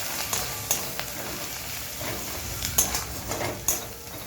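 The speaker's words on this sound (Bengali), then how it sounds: "একটু জিরে গুঁড়ো, লঙ্কার গুঁড়ো, হলুদ দিয়ে এবারে ভালো করে কষিয়ে নেব" Cumin, chili powder and turmeric are sautéed in a pan, producing steady frying sizzle with intermittent scraping and clinks as a utensil stirs against the metal, close and moderately loud.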